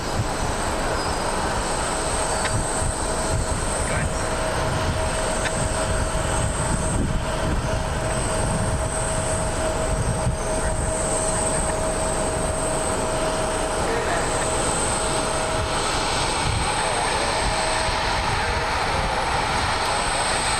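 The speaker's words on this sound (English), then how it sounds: "Delta Airlines 737." A Delta Airlines Boeing 737 jet at an airport, heard as a steady, loud broadband engine roar that holds through the whole stretch with a constant tonal whine on top, no breaks.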